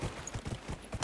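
Hoofbeats of a hart mount in the fantasy game Dragon Age: Inquisition, a quick, even clip-clop rhythm of several close steps.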